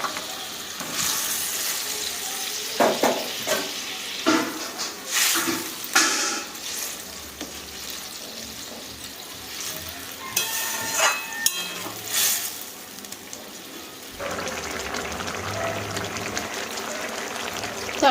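Fried teasel gourd tipped into a fish roe curry, with bursts of sizzling and stirring scrapes coming and going over a low background, loud and close throughout.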